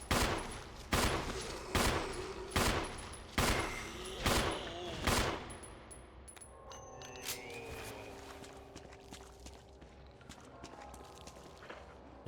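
Gunfire in the survival horror game Resident Evil 1: a run of about seven loud, evenly spaced gunshots over roughly five seconds, followed by quieter game ambience and creature sounds.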